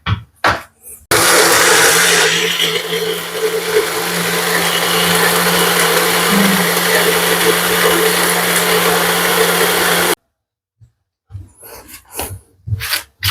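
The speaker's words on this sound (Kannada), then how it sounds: "ನೀರು ಹಾಕೊಂಡು ಗ್ರೈಂಡ್ ಮಾಡ್ಬಿಡೋಣ" A mixer grinder grinds chutney with water for breakfast, starting abruptly in a loud, close, steady whir that runs about nine seconds and cuts off, followed by a few scattered clatters and knocks.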